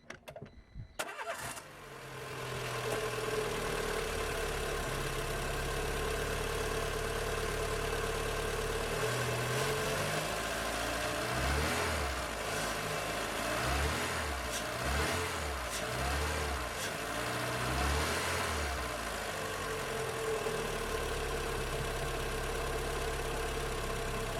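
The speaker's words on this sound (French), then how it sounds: "Et maintenant pour le contrôle, nous démarrons le moteur." A Renault Twingo 16V engine with new spark plugs cranks briefly, catches and settles into a steady, fairly loud running hum with slight pulsing, no voices.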